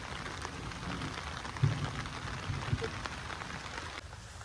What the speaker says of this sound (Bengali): শুরু হয়ে গেছে হালকা হালকা করে বৃষ্টি